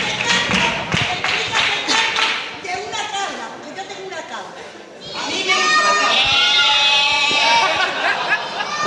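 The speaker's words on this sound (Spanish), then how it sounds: "Bueno, ahí está la cabra de la Juani, que es una asidua, está todos l" A goat bleats and clapping patters among a lively theatre crowd at a carnival group performance, with people talking and cheering throughout and wavering animal cries rising above the noise.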